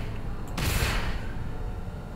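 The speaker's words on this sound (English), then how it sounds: "I've got a bearing size 4 cannon on this side." A size 4 ship cannon fires in the space game Star Citizen, giving a single sharp blast that decays into a rumbling tail over a steady engine hum.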